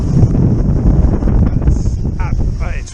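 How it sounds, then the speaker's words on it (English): Strong wind buffets the microphone during a DJI Mini 2 drone flight on a snowy day, a constant loud rumbling roar with faint whines over it as a voice talks underneath. "Windy weather."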